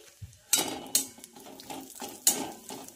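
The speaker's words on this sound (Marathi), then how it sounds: "तर छानपैकी हे मध्यम गॅसवर आपल्याला हे फ्राय करून घ्यायचं आहे" Dry fruits with cardamom powder and grated coconut being stirred in a pan over medium heat: a spoon clatters and scrapes against the metal in several sharp, close knocks over a faint background.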